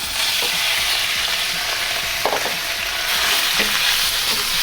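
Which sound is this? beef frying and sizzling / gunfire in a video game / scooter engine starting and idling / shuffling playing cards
beef frying and sizzling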